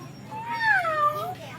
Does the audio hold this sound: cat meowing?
yes